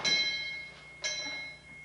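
A church bell tolls twice, each stroke ringing out clear and then fading into a long, humming decay, with faint background murmur.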